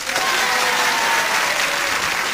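Game show studio audience applauding steadily and loudly throughout, a dense continuous wash of clapping with no break.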